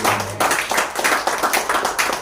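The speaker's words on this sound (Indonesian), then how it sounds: "Tepuk tangan dong buat" Members of a church congregation clap in a lively, rhythmic burst, many hands striking close together with a regular pulse for about two seconds.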